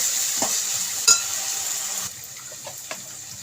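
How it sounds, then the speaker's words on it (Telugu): Masala paste fries in oil with a soft, close sizzle and light stirring scrapes, dropping a little quieter partway through. "మసాలా ముద్దని బాగా వేపుకోవాలండి పచ్చివాసన పోయేంత దాకా బాగా వేగాలండి ఆయిల్లోని"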